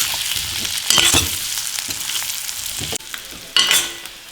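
Vegetables frying in hot oil while being stirred for a lunch thali dish, a steady close sizzle broken by louder bursts of spoon scraping and stirring, with no one talking.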